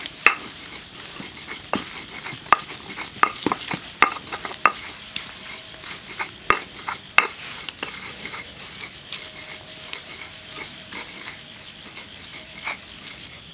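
Spices ground with a stone mortar and pestle (ulek), a series of sharp grinding knocks and scrapes in an irregular rhythm, loud and close, fading toward the end.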